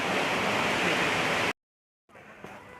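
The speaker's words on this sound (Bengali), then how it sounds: "আর এই হলো ওয়াটারফলটা" A waterfall at Devkund in Balasore roars as a steady, dense wash of falling water, loud and close, then cuts out abruptly and returns more faintly and distantly.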